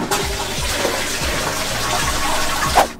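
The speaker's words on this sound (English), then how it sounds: "when you flush the toilet here, water will run down, you can wash your hands, and then the dirty water goes inside the tank to fill it up" Water rushes steadily from a Japanese toilet's flush into the hand-wash basin on top of the tank, a close, continuous gushing and splashing with a brief gurgle near the end.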